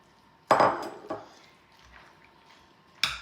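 A spoon clinks and scrapes in a bowl as cooked noodles are mixed into a snack mixture: one sharp clatter, a second knock, soft stirring, then another clink, all close and fairly quiet.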